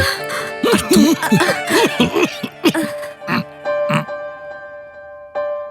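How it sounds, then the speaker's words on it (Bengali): A person coughs repeatedly in a rough, hacking run with throat-clearing sounds, close and loud, followed by a few more scattered coughs amid a tense indoor scene. "তো কাশছেন কেন?"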